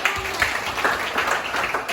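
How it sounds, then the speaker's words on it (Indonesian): A high-school class in a mathematics lesson applauds with a short burst of scattered hand clapping, lively and close, lasting about two seconds. "Bagus, tepuk tangan buat"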